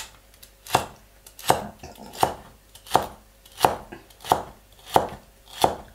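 A knife chops celery on a board in eight crisp, evenly spaced strikes, each a sharp close thud, with no talk over them.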